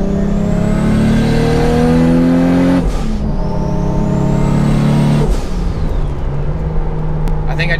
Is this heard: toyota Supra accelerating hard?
yes